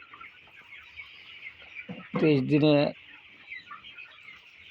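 Broiler chickens, 23 days old, clucking softly in the background, with one louder, drawn-out squawk in the middle and a brief spoken phrase just before it.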